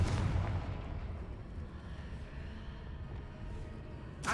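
Confringo blasting spell detonating in Hogwarts Legacy, a loud booming explosion with a strong low-end rumble at onset that trails into a sustained rolling roar before a final burst.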